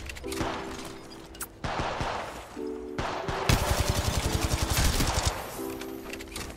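Rapid automatic gunfire in the mobile video game Apex Legends Mobile, bursts of close shots that build into a dense sustained volley, with game sounds and tones around them.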